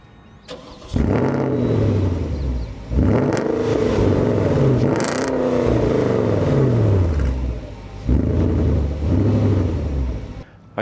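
A car engine starts and revs repeatedly, rising and falling in several loud, close bursts with pauses between, the pitch sweeping up under each press of the throttle.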